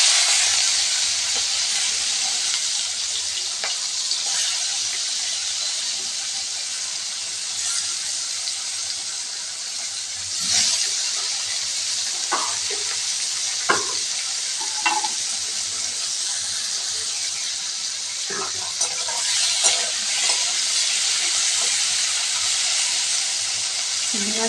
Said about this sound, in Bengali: এবার আমি নুন হলুদ মাখিয়ে রাখা চিংড়ি মাছগুলো কড়াইতে দিয়ে দিচ্ছি